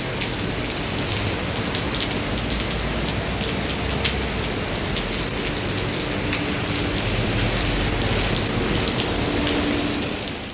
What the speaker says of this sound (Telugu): బయటకు వచ్చేసరికి వర్షం